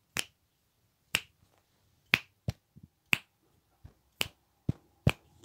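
Crisp, close finger snaps repeating in a loose rhythm, about one or two per second, each one sharp and isolated against near silence.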